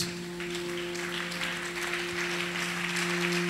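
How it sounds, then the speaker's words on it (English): A church congregation applauds for Jesus during a service, a soft, even patter of clapping heard at a distance over a steady electrical hum. "Put your hands together for Jesus."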